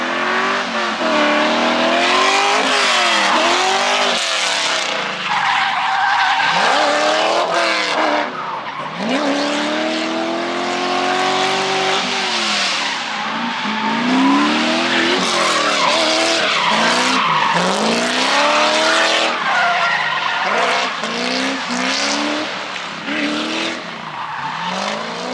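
A drift car skids around a race track, tires screeching in long sweeping squeals over a loud, continuous engine roar with revving, close and sustained throughout.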